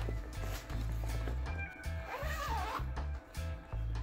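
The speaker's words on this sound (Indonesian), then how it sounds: "Ini model resleting ya." Zipper on a tripod bag for an Inbex 3520P tripod, pulled open in a series of short, close, scratchy rasps that come in a steady rhythm, with faint handling noise.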